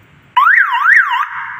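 A 3-phase alarm siren rated at 120 decibels kicks in abruptly with a loud, piercing electronic warble that rises and falls steadily, then settles to a slightly lower level as it continues.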